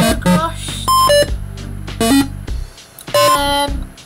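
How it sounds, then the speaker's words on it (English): Bright electronic beeps and chimes from a Google browser mini game, Zerg Rush, in short bursts, several tones stacked, repeating over a low synthetic hum with brief quiet gaps. "If you can hear me over those beeps."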